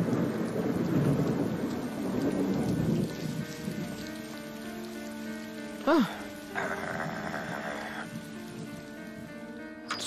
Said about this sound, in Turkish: Sonunda yağmur durdu.